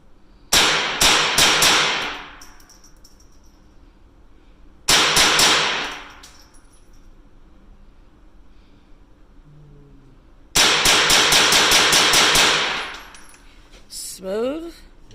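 Sharp, loud cracks from a Smith & Wesson AR-15 .22 rifle come in three clusters of rapid successive shots, each burst ringing out and decaying outdoors, separated by quiet pauses, with a brief faint sound at the end.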